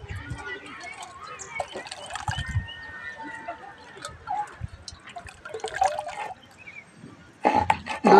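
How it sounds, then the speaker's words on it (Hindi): Water is drained off soaked mahua flowers, with intermittent splashing, trickling and pouring sounds in short bursts and a louder gush at the end, under occasional talk. "अब ये पानी थोड़ा हटा लेंगे और फिर इसको नए पानी से धुल देंगे"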